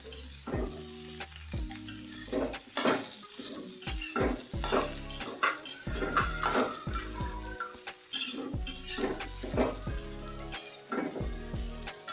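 Bhaji for puri is stirred in a pan, the spoon scraping and clattering against the metal in an irregular rhythm over a soft, continuous sizzle.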